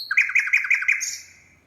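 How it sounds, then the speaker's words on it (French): A common nightingale sings a short phrase: a rapid run of about five bright, repeated piping notes followed by a trailing whistle, close and clear with no other sounds. "le chant du rossignol"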